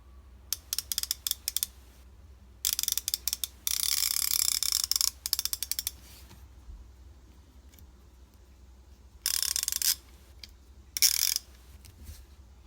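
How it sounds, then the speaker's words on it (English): A Harbor Freight Pittsburgh Pro ratchet clicks in several quick bursts of rapid, close, crisp ticking separated by short pauses. "The ratcheting mechanism, real smooth."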